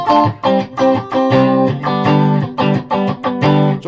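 Clean electric guitar notes and chords are played on single-coil pickups through a Joyo Bantamp Blue Jay amp, each one ringing out with a soft reverb tail between phrases.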